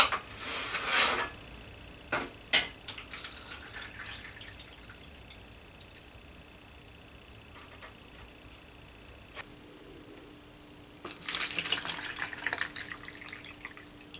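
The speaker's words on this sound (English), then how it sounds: "you're going to pour your water into 2 glasses." Hot water pours briefly into a glass, then after a quiet stretch with a couple of clinks, a second longer pour follows into another glass.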